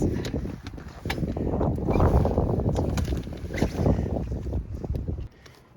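A 1973 Evinrude 25 hp outboard motor on a raft on the Housatonic River runs while warming up, a steady close rumble buffeted by gusty wind noise, which drops away near the end.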